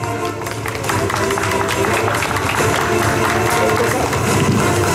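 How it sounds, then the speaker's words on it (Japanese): Big crowd applause at a stage event at Nagoya racecourse, a dense continuous roar of clapping that swells after the first second and holds steady and loud throughout. "皆さん大きな拍手でお迎えいただきたいと思います"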